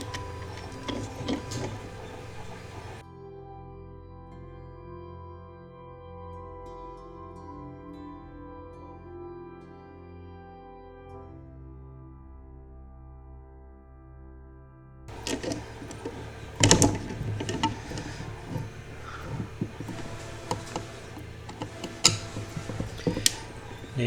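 A 3D printer printing leg parts, steady layered mechanical whirring and ticking from stepper motors with shifting tones, getting louder and busier with sharp clicks in the final stretch.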